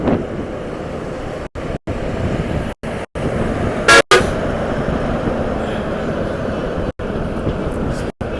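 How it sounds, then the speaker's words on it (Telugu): Traffic on a new road under construction between Hyderabad and Sangareddy, where a flyover is being built, with a lorry driving past: a steady roar of road noise and a loud, brief horn blast in the middle. "చూడండి ఎలా వెళ్తున్నాడో లారీ."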